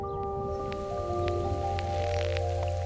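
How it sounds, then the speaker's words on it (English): Underwater pond insects clicking, picked up on a hydrophone: scattered sharp clicks over a steady hum and drone, moderately loud and continuous with no talk. "So that could be some of the insects clicking"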